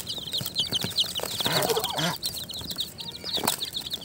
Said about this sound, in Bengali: দেখেন মাশাআল্লাহ আমার মুরগির বাচ্চাগুলো